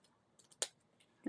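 Scissors trim paper in a few quick, faint snips, one sharper close cut standing out, with a voice starting briefly at the end.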